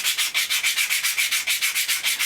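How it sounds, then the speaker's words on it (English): Rapid, even back-and-forth rubbing of emery cloth on wood for a prop machete, about seven strokes per second, close and steady with no talking. "Again, bit of the emery cloth."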